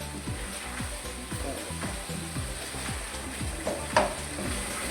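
Palak gosht korma with green chilli paste sizzles and fries steadily in a pan, with a regular rhythm of scraping stirs and a sharper clink near the end, close and fairly loud with no talk.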